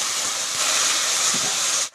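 Water splashes into a hot pan of frying chili and turmeric spice paste with salt, setting off a loud, steady steam hiss for about two seconds before it cuts out sharply.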